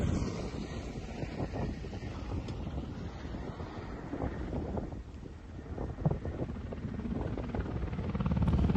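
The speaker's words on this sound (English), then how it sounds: "We now see another KA-52 flying over the cameraman." A Russian Ka-52 attack helicopter passes low overhead in a Ukrainian war zone, a steady loud rotor and engine roar with wind buffeting the microphone, swelling toward the end as it comes closer.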